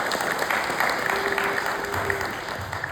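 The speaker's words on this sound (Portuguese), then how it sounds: "Você pode dar uma salva de palmas para Jesus?" A church congregation claps together in praise, a sustained, lively applause of many hands with faint cheers and a brief held tone beneath, steady and fairly close.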